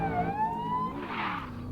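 A police siren wails in a Roblox driving game set in a Polish city, its pitch gliding up and down steadily and loudly with no voices over it.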